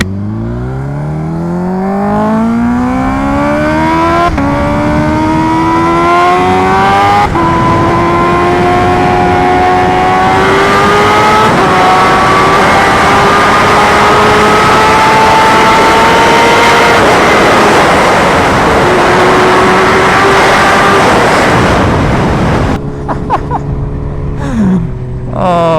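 Kawasaki Ninja H2R motorcycle engine at full power, loud and close, its supercharged tone climbing steadily through the gears in long rising sweeps before cutting off near the end.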